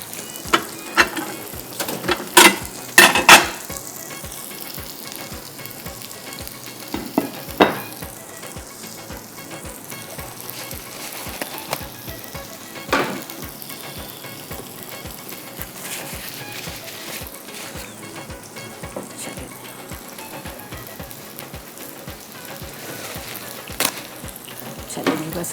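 Jaipur-style shahi kebabs frying in a pan, with a steady loud sizzle throughout and occasional sharp clinks and pops from turning the pieces; no speech.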